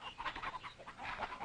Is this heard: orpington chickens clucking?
yes